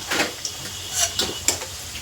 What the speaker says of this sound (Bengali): আলু খুব ভালো করে লাল করে ভাজা হয়ে গেছে